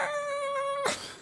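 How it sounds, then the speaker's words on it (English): A single long, drawn-out cat meow with a strong, steady harmonic tone, close and clear, cut off by a brief noisy burst near the end; no talking. "Cat noises."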